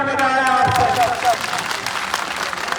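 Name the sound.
crowd clapping at rally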